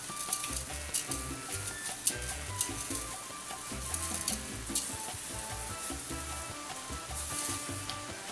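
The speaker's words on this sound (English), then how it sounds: "what I'm going to do now is I'm going to add my rice." Rice poured into a hot paella pan keeps up a steady, dense sizzle of frying, with faint stirring and scraping sounds alongside and no talking.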